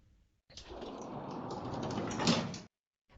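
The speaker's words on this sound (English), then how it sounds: "Patrick pressed the button, and the doors closed." Elevator doors sliding shut: a single smooth mechanical slide of about two seconds, moderately close, with a faint thump as it ends, alone against a quiet background.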